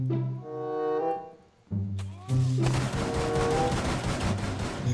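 Gunfire in Rainbow Six Siege: loud, sustained automatic rifle bursts, close and dense after a brief pause, under game sound effects with no clear talk.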